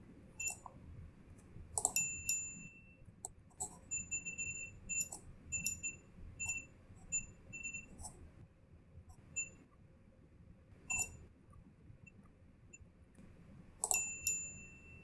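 Bell sound effects used in video editing: a series of bright, short metallic dings, some repeated in quick pairs and spaced irregularly, each preceded by a soft click over a quiet background.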